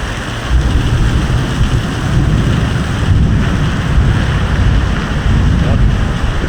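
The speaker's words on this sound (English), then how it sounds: "Out here in the rain again." Heavy rain pours outdoors with a loud, dense roar. Wind buffets the microphone and low rumbles sound through it, continuous and close, with no voices.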